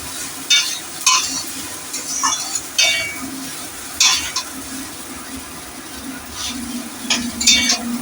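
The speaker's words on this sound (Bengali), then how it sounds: "ভাজা হয়ে গেছে প্রায়, অনেকটাই লাল লাল হয়ে গেছে।" Food frying in a pan on a home kitchen stove sizzles steadily up close, broken by repeated scrapes and clinks of a utensil stirring against the pan.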